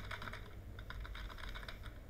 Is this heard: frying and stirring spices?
no